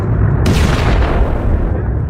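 An Iranian missile strike in Tel Aviv, heard as a loud, heavy blast that roars broadly and then slowly trails off, with a low rumble running throughout.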